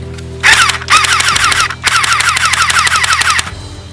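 A Soft Air USA FN Herstal P90 6mm electric airsoft rifle on a partly charged battery fires three loud, close bursts of rapid buzzing shots, each broken by short pauses.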